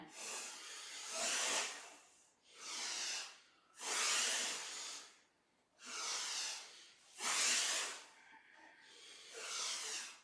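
Forceful bellows breathing during a yoga cat-cow flow: six strong, rhythmic, hissing breaths, close and clear, each lasting about a second with brief gaps, no talking over them.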